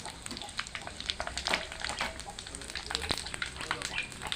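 Panch phoron spices sizzle in hot oil for a jackfruit curry, a close crackling fry with sharp pops and spits over a soft background hiss.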